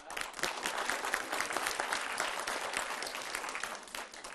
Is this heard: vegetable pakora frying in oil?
no